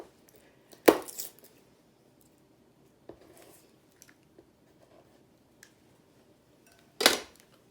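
A knife on a cutting board gives two sharp chopping knocks through garlic, several seconds apart, with a few faint small taps and handling noises between them, close and alone.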